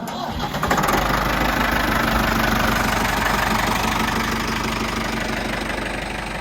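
A Ford 5600 tractor with a Hesston 1120 haybine hooked up cranks and fires, then settles into a loud, steady diesel chug with a rhythmic knock. It runs close by without a break.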